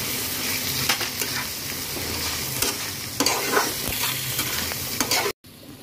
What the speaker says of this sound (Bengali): মশলার জলটাকে কিন্তু এখন আমি দিচ্ছি